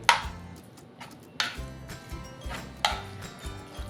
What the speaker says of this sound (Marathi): आता हे आपल्याला व्यवस्थित मिक्स करून घ्यायचं आहे